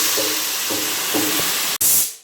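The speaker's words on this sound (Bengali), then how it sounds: "সবজিগুলো ভাজা ভাজা হয়ে গেছে এখন জল দিয়ে দেব" Water is poured into a hot pan of fried vegetables. Steady sizzling comes first, then a sharp hissing burst of steam that swells loudly and quickly fades away.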